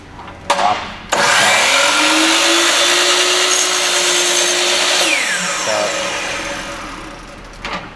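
A chop saw whines up loudly after a short clack, cuts with a steady roaring buzz and then spins down to a stop. The sound is close and dominant with no speech.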